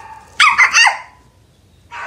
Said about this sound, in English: Okay, that's my friend's dog.